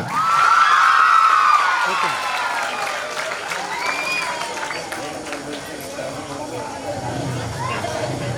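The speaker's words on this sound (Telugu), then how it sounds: "పిల్లలు గట్టిగా చప్పట్లు కొట్టాలా" Schoolchildren at a high school statue-unveiling ceremony clap together in a crowd. The applause is loudest at the start, then continues more softly under someone talking, with some scattered shouts.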